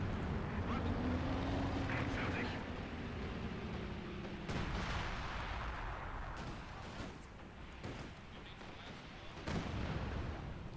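Company of Heroes 2 battle audio with scattered gunfire and heavier artillery-like booms over a dense, continuous wash of combat noise, while a faint voice talks underneath.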